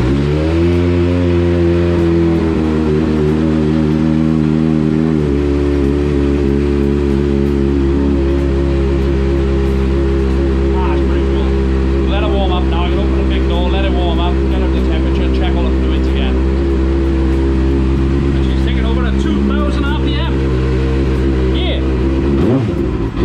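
A car engine with a cooling fan and coolant system starts up and settles into a loud, steady idle, running continuously with some revving variation, while people talk over it.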